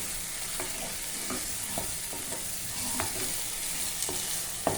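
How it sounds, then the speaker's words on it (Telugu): Onions sizzle steadily in a pan for a prawn tomato curry, a constant hiss of frying broken by faint scrapes and taps of stirring, close and moderately quiet with no voices. "ఆల్రెడీ మనకి కాల్చిన ఉల్లిపాయ అండి ఇది కాబట్టి మనకి త్వరగా వేగిపోతుంది"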